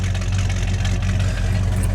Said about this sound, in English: Oh yeah, she's idling good.